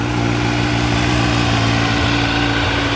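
A 2017 Kawasaki Z900 ABS motorcycle with stock exhaust idles steadily throughout, even and fairly loud with a smooth, muted rumble and no revving.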